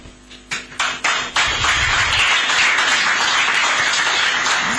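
Audience applause at a live flag-off ceremony for Imo Digital City, opening with a few separate claps that swell into sustained, dense clapping from a crowd, steady and fairly loud.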